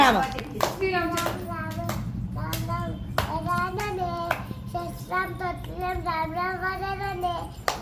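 Children's voices chatter and sing throughout, with scattered bursts of hand clapping mixed in under the talk.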